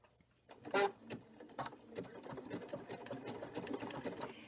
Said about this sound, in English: I normally sew with the slow to medium speed